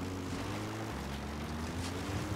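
A helicopter arrives in the video game Metal Gear Solid V, giving a steady, close droning hum of engine and rotor that holds without break, with no talking over it.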